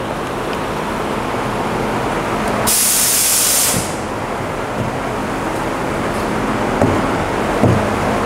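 A resin spray gun applies resin to a termite-damaged boat transom during a Carrera powerboat restoration, giving one loud, sharp hiss lasting about a second over a constant background roar of shop noise, followed by faint clicks.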